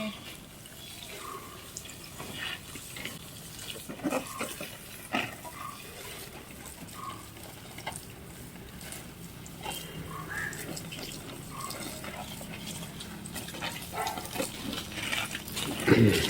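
Water is sprinkled by hand over garden vegetable plants such as brinjal, giving a continuous soft, noisy splashing and dripping with scattered small knocks and some faint background activity.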